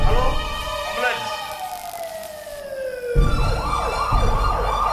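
An ambulance siren wails with rising and falling sweeping tones, loud and close, passing over road traffic noise during a stage playlet, with voices heard in the mix.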